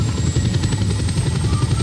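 Helicopter flying in the Just Cause 2 video game, a loud steady rotor chop and engine drone filling the whole moment with no talk over it.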